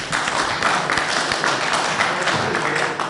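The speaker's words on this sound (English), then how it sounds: "I think you all deserve your own round of applause" An audience at a wastewater summit claps together for about three seconds, a steady dense patter of hands with a few sharper taps, fairly close, and no talking.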